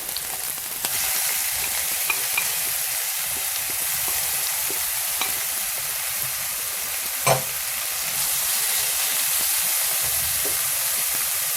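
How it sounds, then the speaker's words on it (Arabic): Onion frying in oil in a pan hisses with a steady, close sizzle throughout, with a brief clatter of stirring midway and no talk over it. "واحد المقله درت فيها شويه ديال الزيت، درت عليها البصله"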